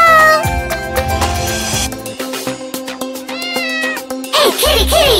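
A cat meows repeatedly in a barn, loud and close, with several drawn-out cries over bright, busy children's nursery-rhyme music.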